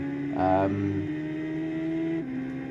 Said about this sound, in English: once you're accelerating, the car makes a noise, like they've just sort of looped the sound